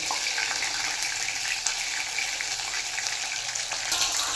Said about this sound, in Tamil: பாருங்க, நல்லாவே ஃப்ரை ஆக ஆரம்பிச்சிச்சு.